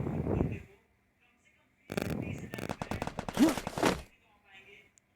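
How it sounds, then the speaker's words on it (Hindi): Gunfire in the Free Fire battle royale video game: a dense burst of rapid automatic shots lasting about two seconds, moderately loud amid quieter game sounds. "मुझे फायरिंग की भी आवाज़ आ रही है"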